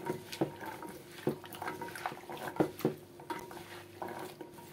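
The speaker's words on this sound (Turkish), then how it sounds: "Şöyle 1 çay bardağı limon suyu döküyoruz bamyalarımızın üzerine. Şöyle bir karıştıralım." Lemon juice being stirred into okra in a pot, the spoon knocking and scraping in an uneven rhythm of clinks and wet shuffles, close and moderately quiet, with no one speaking.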